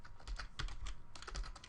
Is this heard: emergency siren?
no